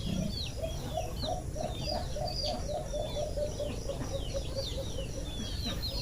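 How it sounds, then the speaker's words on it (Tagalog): A hungry pet alimokon (pigeon) calls repeatedly in a steady series of short notes, with other birds chirping around it outdoors near banana plants, continuous and moderately loud. "Grabe talagang makulit talaga itong ibon"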